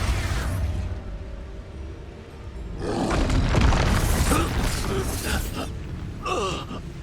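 An Expulso spell blast in the video game Hogwarts Legacy: a loud, broad booming burst erupts midway and rumbles for a second or two, followed by a smaller flare, over a constant background roar.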